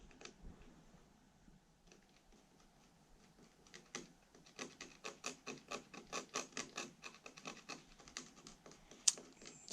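Solder is scraped off a Samsung TV circuit board with a tool, a close run of rapid, dry scratching strokes that start soft and build into a steady, rhythmic series, with a sharper click near the end.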